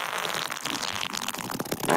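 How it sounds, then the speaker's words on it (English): A fart noise played from a podcast soundboard, a single long, buzzy, sputtering blast lasting about two seconds and heard alone. "We're on the fart noise sound part of the show."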